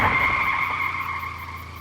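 A car braking hard on a lonely road, tires skidding in one sustained, loud screech that fades slightly as the vehicle slows, with no voices.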